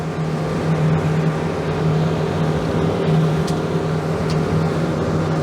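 A motorboat runs at high speed near 27 to 30 knots, with a loud, steady engine drone and a strong hum. Water rushes constantly along the hull, and faint knocks are heard now and then.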